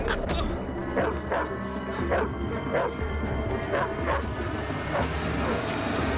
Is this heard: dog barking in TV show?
yes